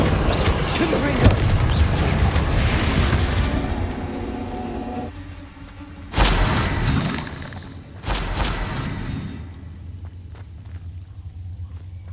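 Confringo explosive spell blasts in the Hogwarts Legacy video game, loud shattering booms with rumbling aftermath, two sharp hits partway through over dense game noise.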